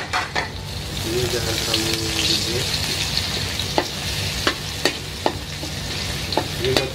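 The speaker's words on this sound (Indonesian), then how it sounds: "kita masukin bawang putih. Bawang putih yang tadi udah diulek." Crushed garlic sizzles and spits steadily in a hot pan with oil, with sharp stirring clacks from a utensil scraping the pan; a person speaks briefly over the frying.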